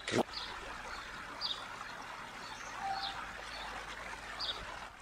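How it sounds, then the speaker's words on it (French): Faint, scattered bird chirps over a steady background of trickling water at an oasis in Tozeur, calls spaced a second or so apart. "Tu entends les oiseaux?"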